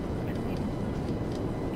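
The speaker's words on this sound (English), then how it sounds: "There's a helicopter flying right next to you." Helicopter flying close by in Grand Theft Auto Online, near a military base, giving a steady, loud rotor and engine drone that fills the short stretch without pause.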